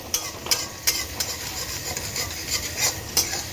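Cumin, whole garam masala, green chilli and onion frying in hot oil, a constant close sizzle broken by regular clicks of a utensil stirring against the pan.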